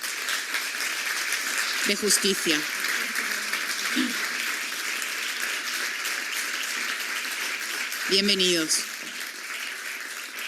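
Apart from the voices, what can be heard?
audience applause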